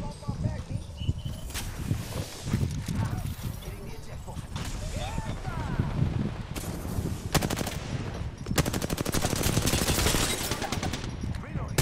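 Automatic gunfire bursts rattle through a frantic video game firefight, dense volleys coming near and loud, intensifying in the last few seconds with long sustained strings of shots.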